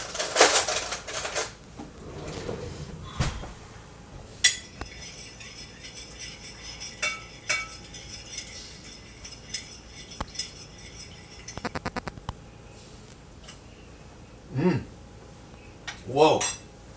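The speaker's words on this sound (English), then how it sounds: "Let me mix that up a little bit." A spoon stirs a cold salad of beans and corn dressed with lime juice in a bowl, giving intermittent clinks and scraping clatter against the bowl, with a few sharper knocks near the start and end.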